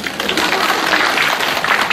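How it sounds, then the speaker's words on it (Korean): Audience applause at a Dongguk University admissions briefing, a dense steady wash of many hands clapping at close range, continuous for about two seconds. "박수 한번 주시죠"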